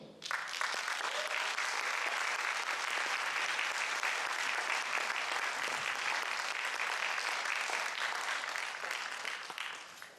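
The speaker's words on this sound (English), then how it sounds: "I think we need an extra big round of applause for Dr. Toni Bark." A sustained round of audience applause follows a speech at a public health hearing, dense steady clapping from a crowd filling the whole stretch before tapering slightly at the end.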